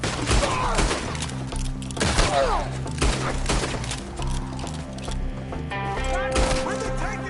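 Shootout gunfire in Red Dead Redemption 2: scattered shots and cracks at mid distance over a steady musical score, mixed with shouting voices and occasional thuds.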